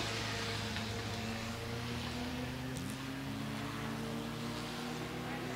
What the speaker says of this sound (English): They're both Lotus 7s, but they sound very different